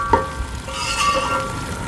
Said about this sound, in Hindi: अब इसमें हम प्याज डालेंगे, और प्याज़ों को हमने लाइट ब्राउन करना है ताकि ये खस्ता हो जाए।